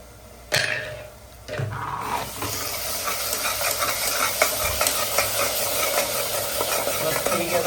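Green masala paste sizzles and fries in hot oil with whole spices and chopped onion, with steady crackling and spoon-stirring scrapes after a couple of sharp knocks at the start, close and alone with no talk.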